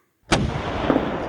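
A single 9-inch Dahlgren naval cannon shot in a wargame: a sudden sharp boom out of silence, followed by a long rumbling decay that fills the rest of the moment.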